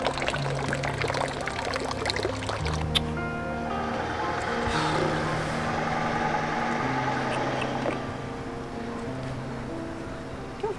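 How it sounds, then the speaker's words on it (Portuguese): Rainwater poured out of a strawberry planter on a sailboat in Croatia, a steady splashing gush lasting throughout, close and fairly loud over a low engine-like hum and faint voices. "eu tô tentando tirar a água"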